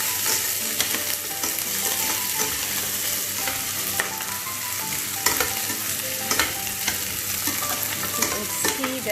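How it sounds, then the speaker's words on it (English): Onion frying in a very hot pan, a dense, loud, continuous sizzle with repeated scraping and clinking as it is stirred, and no talking. "Let the onion get cooked before we put anything else."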